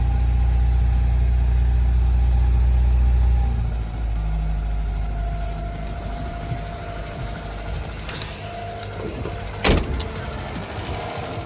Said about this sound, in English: it's time to start it. it started first go.